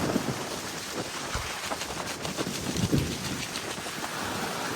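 Heavy rain pours down in a dense, steady hiss that fills the air, with a few heavier drops and dull rumbles mixed into the constant wash.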